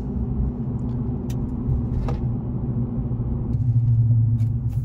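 A 2023 GMC Sierra 1500 AT4 pickup with the 3.0L Duramax diesel cruises along, a steady low engine and road rumble heard from inside the cab with a few faint clicks.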